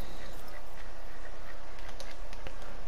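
Startled birds in The Hunter: Call of the Wild video game flutter and call faintly through a dense, steady wash of outdoor ambience, with brief scattered chirps and quacks.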